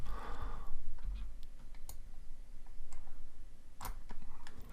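A computer keyboard spacebar is pressed a few times, giving sparse, sharp, fairly faint clicks over a low background hum.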